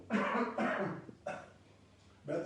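Repeated coughing into the crook of the elbow during a medical explanation of coronavirus precautions, with three or four close, loud bursts separated by short pauses.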